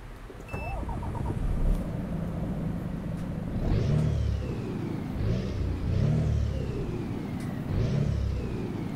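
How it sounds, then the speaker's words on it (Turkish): A car engine starts and revs inside a driving video game on a Turkey map, with several rising-and-falling revs at a steady pace, moderately loud under a faint background. "Şöyle bir çalıştıralım aracımızı."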